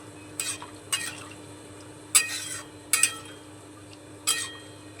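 Spoon stirring chickpeas and spices together in a pan for chana masala, with five or six distinct scraping clinks against the metal over a low steady background hiss, no talk.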